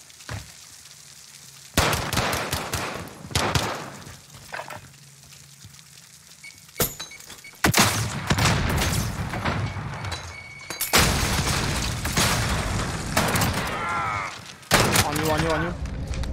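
Pistol gunfire in a Call of Duty gunfight match, sharp bursts of shots clustered in several loud volleys between quieter gaps, with voices talking over the action.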